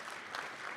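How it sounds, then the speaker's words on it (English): A crowd at a Martin Luther King Jr. celebration in Ames, Story County, Iowa, claps in a brief, even burst of applause that sounds moderately distant and steady throughout. "Give yourself a round of applause for hanging in with us"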